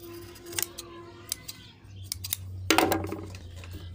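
Scissors snip through collar fabric in a series of short, crisp cuts, close and fairly quiet, with a brief rustle of cloth handling partway through and no talk.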